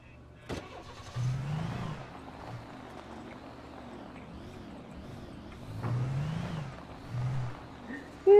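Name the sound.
car engine in video game Alan Wake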